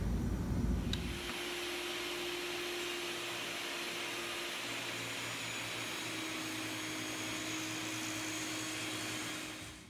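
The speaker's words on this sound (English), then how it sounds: "I'll make a rip cut on the table saw at the half inch mark" A table saw rips through a wooden strip at the half inch mark: a steady, loud motor whine with a sustained tone and broadband cutting noise that holds for nearly ten seconds after a brief start at the beginning.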